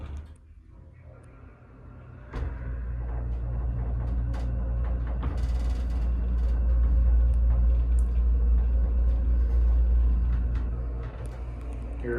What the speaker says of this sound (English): let's hear the motor